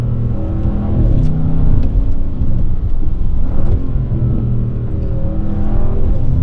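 Audi RS6 GT wagon with its V8 engine, a loud, steady engine note with revving swells that rise and fall throughout, heard close and alone.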